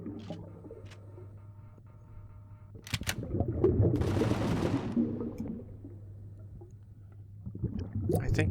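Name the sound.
base turret firing in Empyrion Galactic Survival video game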